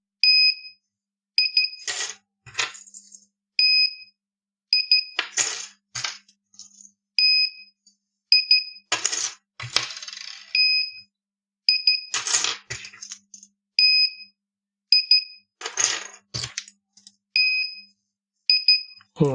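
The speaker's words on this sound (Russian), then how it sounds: "Двойное нажатие, это двойной сигнал, это значит, что ключик привязался." An AD2000-M RFID access control panel beeps in paired high electronic tones as key fobs are registered, repeating in a regular pattern between clicks and metallic clinks of the fobs being handled, close and clear with no talking.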